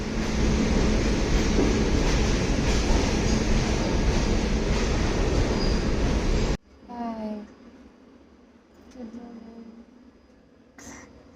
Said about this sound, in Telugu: ఈలోపే ట్రైన్ కూడా వచ్చింది.